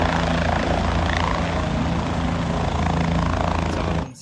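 Helicopter flying overhead near a cricket ground in Haridwar, a loud, steady rotor and engine drone that holds at full strength and then cuts off abruptly at the end.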